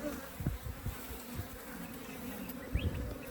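Africanized bees buzz faintly and continuously during removal from a water meter box, with occasional soft knocks and thumps close by.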